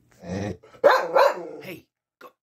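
A dog barks and growls nearby in a couple of short, close bursts, with a faint yip at the end, indoors in an ambulance converted into a living space.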